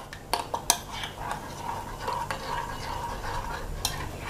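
Utensils scrape and clink against a bowl as salted egg sauce mixed with water is stirred, with a few sharp taps and steady mixing sounds, no talking.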